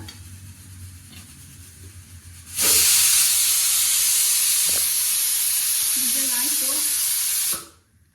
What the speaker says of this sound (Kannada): ವಿಷಲ್ ಆಯಿತು, 3 ವಿಷಲ್ಲು ಆಯಿತು.